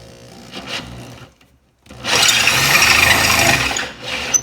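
A drill bores out the bolt holes of a brake rotor, widening them to 3/4 inch; a grinding, rasping whine runs in two bursts, a brief one early and a longer loud stretch after a short pause, close to the microphone.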